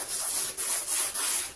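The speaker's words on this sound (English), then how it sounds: "I'm just going to give it a really quick" Quick back-and-forth sanding strokes rasp against the primed hull of an RC model ship, three or four close, steady passes with brief pauses between them.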